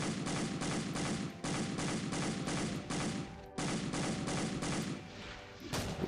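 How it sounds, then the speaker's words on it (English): Rapid pistol fire from a Doom mod video game, a fast string of loud, evenly spaced shots in two bursts with a brief pause between them and no talk. "It's just a pistol. Shoots a little bit faster. Is a little bit more accurate as well."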